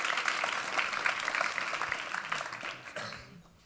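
A conference audience at Winterkongress 2020 applauds to welcome a speaker to the stage, with steady, moderately close clapping that fades out toward the end.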